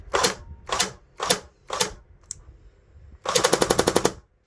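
An Ares Tavor TAR-21 airsoft rifle with a 7/4 spring fires four spaced single shots, then a short pause and a rapid burst of about ten snappy shots, loud and close.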